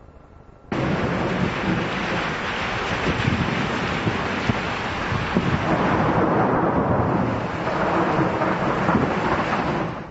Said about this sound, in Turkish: Şanlıurfa'da aniden bastıran sağanak yağış ve şiddetli rüzgar hayatı olumsuz yönde etkilerken